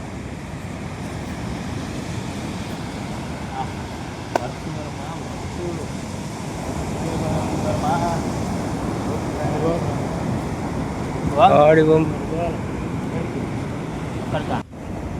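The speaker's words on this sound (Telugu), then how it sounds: "అసలు చూడండి ఆ అలలు ఎలా వస్తున్నాయో" Sea waves break steadily on a beach where a fisherman sets out to sea, a continuous surf wash with wind buffeting the microphone and brief talk partway through.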